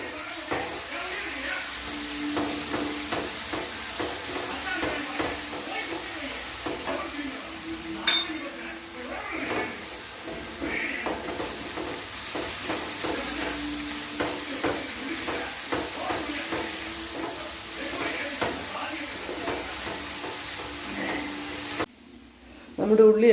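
Ginger garlic paste and onions sauté in a pan for chana masala, a continuous low sizzle with scraping stirs and occasional metal clinks, talk running over it.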